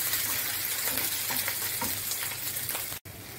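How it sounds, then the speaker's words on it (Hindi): Garlic and green chilies frying in oil in a pan, making a dense continuous sizzle with faint stirring scrapes, cut off abruptly near the end. "हरी मिर्ची, इसे थोड़ी देर भून लेंगे"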